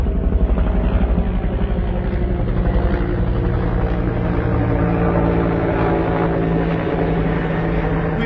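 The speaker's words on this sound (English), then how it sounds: "So let's let this big chopper get over us here." A big helicopter passes low overhead at Congressional Cemetery in Southeast Washington, DC, its loud rhythmic rotor thump and engine drone steady and close throughout, with no talking.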